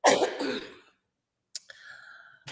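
A throaty cough bursts out, then silence for about half a second before another rough cough-like clearing of the throat, close and fairly loud.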